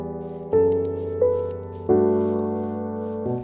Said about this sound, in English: This calm, almost nostalgic music is from the game Minecraft.